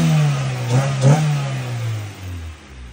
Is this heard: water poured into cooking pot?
no